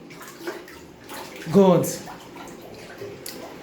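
Children splash about in a home bathtub, the water sloshing and dripping in quiet bursts with one louder splash midway, while someone talks over it.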